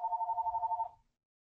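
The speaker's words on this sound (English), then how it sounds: "my phone's ringing and I can't get up" A phone rings with a single trilling, buzzy electronic tone that pulses evenly for under a second and then cuts off into silence.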